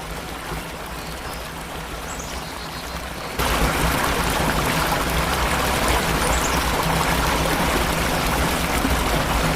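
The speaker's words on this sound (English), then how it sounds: "The waterfall you see is not just decor." A waterfall and stream pour through rock in an isolated Swiss village, a steady rushing roar that swells suddenly louder partway through and carries on alone.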